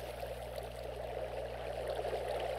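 Water pours steadily from a bucket in Minecraft, a continuous rushing, trickling flow heard up close at an even level for the whole stretch, with no voices over it.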